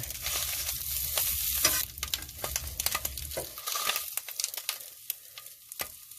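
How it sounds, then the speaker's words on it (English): Barbecue meat sizzles and crackles in a hot pan, with frequent sharp pops over a steady hiss that thins out partway through. "could you hear that popping in the background? It ain't bacon."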